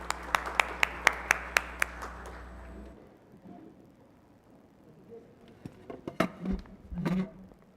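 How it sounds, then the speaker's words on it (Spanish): A few sharp, distinct claps ring out at first, spaced and echoing, then give way to quiet room noise and some shuffling. "Recibámoslo con un fuerte aplauso."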